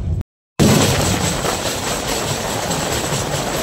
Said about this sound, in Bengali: ট্রেন এখন ব্যান্ডেল স্টেশনে ঢুকবে